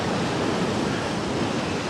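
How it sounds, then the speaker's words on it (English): Ocean surf breaking at Portreath on the Cornish coast ahead of Storm Darragh, a loud unbroken roar of churning waves with wind buffeting the microphone, no voices. "Can you hear the ocean?"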